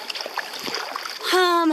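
Paddle strokes splash close by as a boat with a broken rudder is paddled on the Yukon River during the Yukon River Quest race, with a voice briefly audible at the end.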